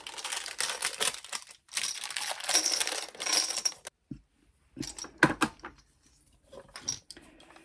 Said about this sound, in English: it just falls straight down in the chute where the toy's supposed to come out if you win. So you get these little coins.